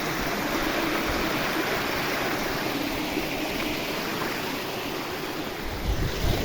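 Steady rushing water flows continuously, a broad even roar with no voices.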